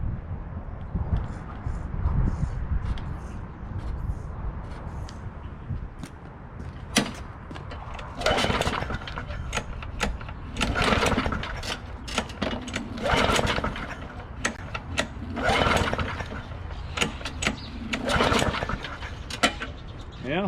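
A lawn mower with a newly replaced carburetor and tank is cranked over and over by its pull cord, each pull a rough, rasping burst in an irregular rhythm, and the engine never catches, with some background noise throughout.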